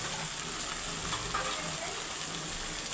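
Ginger-garlic paste and spices fry in hot oil for a Bengali katla fish curry, giving a steady, close sizzle that hisses evenly from start to finish with no one talking.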